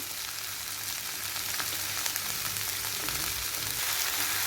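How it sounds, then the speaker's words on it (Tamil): Potatoes and peas with coconut paste frying lightly in a pan, a steady soft sizzle with faint scattered crackles and occasional stirring, continuous and fairly quiet. "உருளைக்கிழங்கு பட்டாணி ஆட் பண்ணதுக்கப்புறமா லைட்டாக ஃப்ரை பண்ணால் போதும்."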